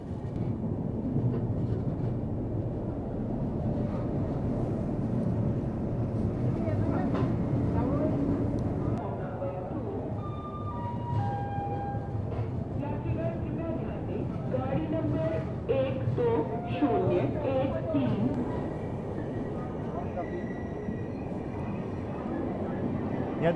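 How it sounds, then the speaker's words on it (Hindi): Amritsar Shatabdi Express hauled by a WAP 5 electric locomotive pulls out of Jalandhar City Junction, a steady heavy rail rumble with rising tonal whines as it accelerates, close and loud throughout. "यहाँ देखिए, अमृतसर शताब्दी एक्सप्रेस डिपार्चर ले रही है। WAP 5 लोकोमोटिव के साथ थी"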